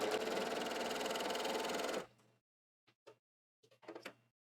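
A sewing machine stitches a pocket along a pressed quarter-inch edge with a loud, steady mechanical whir. It stops abruptly halfway through, leaving a few faint clicks and handling noises.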